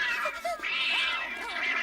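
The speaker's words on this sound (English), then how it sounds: "Misha, stop that, you bad cat." A cat named Misha meows and caterwauls in a drawn-out, wavering cry, fairly close and loud, with no talking over it.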